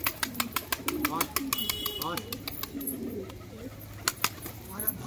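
A group of pigeons offered for sale at a house coo repeatedly in low warbling phrases, mixed with sharp clicks and taps and fluttering movement nearby.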